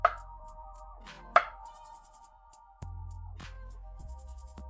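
A knife chops food into small squares on a cutting board, two sharp distinct strikes about a second apart followed by ringing tones and a later dull thud, close up with no talking.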